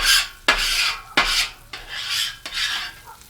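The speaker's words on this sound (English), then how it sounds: "You just want to lightly scrape all the food off the griddle top, like so." A metal scraper rasps across a Blackstone flat-top griddle, clearing cooked-on food in four loud, close strokes of about half a second each, with no talk.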